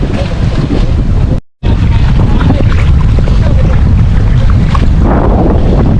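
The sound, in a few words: wind blowing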